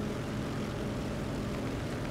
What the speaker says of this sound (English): Okay, I can hear the enemy plane now.